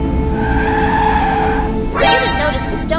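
A bus skids as it loses control, with a sharp, rising tire squeal over a loud, rumbling road and engine bed near the end of the clip.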